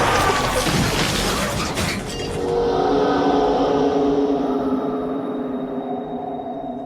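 A car speeds toward people, starting with a loud shattering crash and engine roar that fades into a sustained rumble with ringing, scattered debris.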